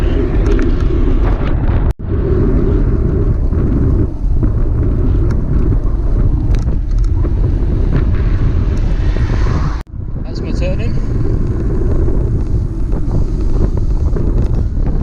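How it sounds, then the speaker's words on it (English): Strong wind buffets the microphone of a touring bicycle riding along a countryside road in Greece, a loud continuous roar with two brief dropouts and no talking. "Bit of a wind, but nothing too bad."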